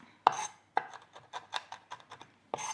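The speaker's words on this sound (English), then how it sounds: "So this is a very easy way to do, to chop the cashew nut or the regular nuts." Knife chopping cashew nuts on a board for chicken satay, a sharp first chop followed by a run of quicker, lighter cuts and a final louder chop, close and alone.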